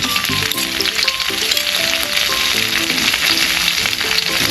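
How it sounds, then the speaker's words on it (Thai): Fish dropped into a hot pan of stir-fried vegetables in a rustic Isan kitchen, a loud steady sizzle and crackle of frying oil that fills the whole stretch with no talk over it. "จากนั้นเราก็ใส่ปลาลงไปครับผม"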